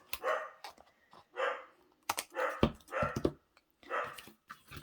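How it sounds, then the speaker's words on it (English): A dog barks repeatedly indoors in short bursts, about six or seven sharp barks spaced irregularly, moderately loud and alone without talk. "I don't know what sets that dog off barking."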